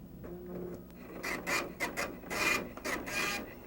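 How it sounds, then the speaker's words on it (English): A dot-matrix-style printer from a 1995 MS-DOS setup prints out screen contents, giving a loud, close run of raspy, rubbing print-head bursts and mechanical strokes with no talk. "And the printer prints out the same thing that was on the screen."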